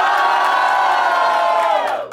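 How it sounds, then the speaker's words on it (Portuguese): Loud, sustained cheering and shouting from a crowd at a street rap battle, a dense roar of voices that holds steady and tapers off at the end. "Barulho pra Mad Blue"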